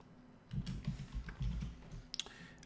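Keys tapped on a computer keyboard while code is typed, a burst of quick, close clicks over about a second and a half, then a few sparse isolated taps, with no talking.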